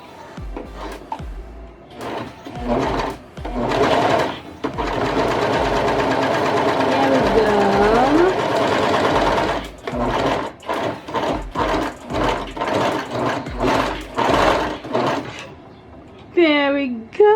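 A Brother 1034D serger overlock machine whirring in several short rhythmic bursts and one longer sustained run, close and fairly loud, with a brief voice heard near the end.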